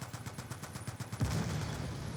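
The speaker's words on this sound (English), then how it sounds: "nice explosion." Rapid bursts of gunfire rattle steadily in Call of Duty Black Ops 2, then a heavier explosion booms and rumbles, all moderately loud with no talking.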